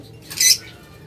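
A single short, shrill squawk from a lovebird at a bird farm, close and loud against a quiet, low background hum.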